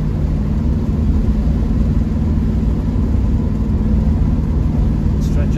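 A Triumph Stag driving along quiet, empty roads in North Yorkshire, its engine giving a steady, loud, close rumble that holds evenly throughout without clear revving.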